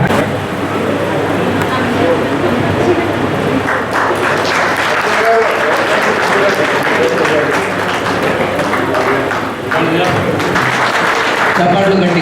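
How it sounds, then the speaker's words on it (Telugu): Loud sustained applause from a crowd at a welfare association event, continuous dense clapping with a lively room murmur and voices mixed in underneath. "చప్పట్లు గట్టిగా."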